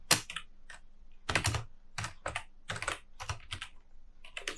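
Quick bursts of key clicks come from someone typing code on a computer keyboard, close and fairly quiet, falling into short irregular clusters with small gaps between them.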